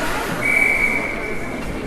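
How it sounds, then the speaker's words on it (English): Referee's whistle at a youth U12 ice hockey game, one sharp, sustained shrill blast of about a second over a busy rink crowd murmur. "Looks like we've got a whistle"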